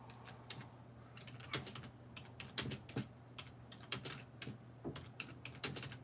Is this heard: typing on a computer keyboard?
yes